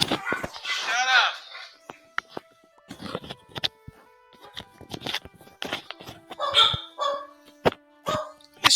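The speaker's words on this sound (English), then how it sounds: "Dogs." Dogs bark in a few short bursts near the start, then fainter barks mix with scattered thumps, footsteps and someone speaking over them.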